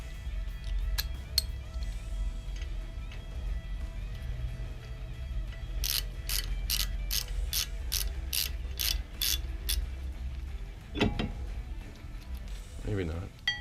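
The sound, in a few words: ratchet tightening bolt while replacing Camaro brake rotors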